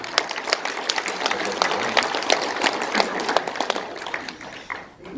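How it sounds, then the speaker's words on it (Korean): An audience at a panel discussion gives steady, fairly dense applause for a guest, with crisp individual claps standing out before it thins at the end. "우리 김은구 대표께 우리 박수 좀 부탁드리겠습니다"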